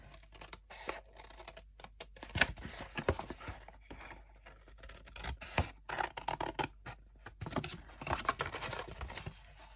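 Scissors snip through paper to cut out a big triangle for mini accordion envelopes, close dry cuts coming in irregular bursts with short pauses, alone without talk.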